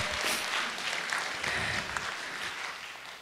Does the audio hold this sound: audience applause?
yes